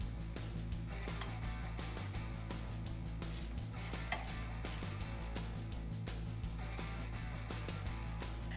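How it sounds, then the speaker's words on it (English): An 18 mm ratcheting wrench tightens a ball joint nut on the steering knuckle of a 2017-2018 Silverado or Sierra, producing a continuous fast clicking ratchet at moderate level over steady background hum. "grab your 18 millimeter ratcheting wrench and get this tightened down"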